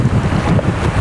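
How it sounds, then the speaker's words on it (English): Strong wind buffets the microphone beside a rough, choppy lake, a continuous low roaring rush with slight gusting and no voices. "You can probably see it's quite rough today, quite windy"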